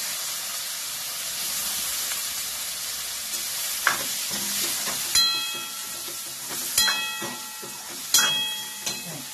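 Finely chopped eggplant fries in a hot pan for kadhi, a steady soft sizzle and hiss with a few sharp metallic clinks of a spoon against the pan toward the end.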